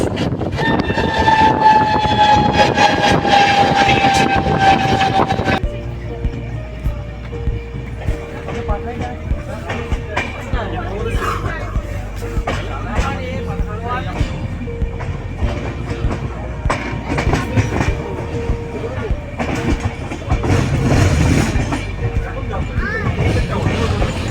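Mithila Express, train 13022 running from Raxaul to Howrah, rolls past loudly with a steady rumble of wagons and clattering wheels, a sustained horn-like tone sounding over the first five seconds before the noise settles into continuous rattling.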